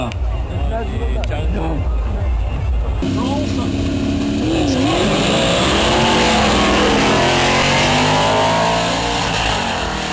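A Ford Mustang and an Austin A55 pickup race side by side at a King of Europe 2005 event, their engines roaring and revving loudly while a commentator speaks over the noise.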